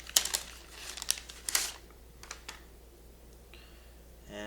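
A packaged guitar string, the thick low E, is unwrapped from its paper pack in a quiet room, giving close crinkling and rustling bursts in the first two seconds, then a few lighter crackles and soft handling sounds.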